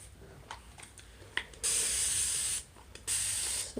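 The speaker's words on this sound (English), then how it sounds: "Nothing in my spray bottle, but straight up warm water." A hand spray bottle mists plain warm water onto type 4 natural hair in two long hissing bursts, close and fairly loud, after some soft handling noises.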